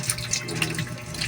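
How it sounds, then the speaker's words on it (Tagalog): Tap water running into a bowl for washing potatoes, a brief steady splashing gush from a faucet, close and fairly loud with no talking. "Maglagay tayo dito guys ng tubig."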